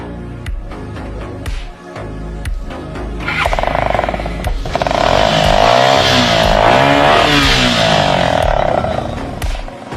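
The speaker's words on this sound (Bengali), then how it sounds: "সাইলেন্সার মডিফাই করছেন কেন? সাইলেন্সার শব্দ দেয় তো একটু ভালো লাগে না।" A motorcycle fitted with a modified silencer starts and revs, its engine note rising to a loud, sustained roar after a few seconds of idling with sharp clicks and knocks.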